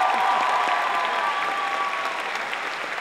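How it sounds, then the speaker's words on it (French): A crowd at an Easter cosplay convention applauds the event's lighting technician. Even, continuous clapping carries throughout, with a faint steady tone beneath it. "je vous demande vraiment de l'applaudir pour tout le boulot qu'il a fait."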